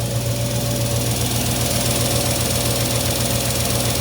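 The engine of a 1946 Studebaker extended-cab pickup runs steadily at close range, giving a continuous low droning hum with no breaks.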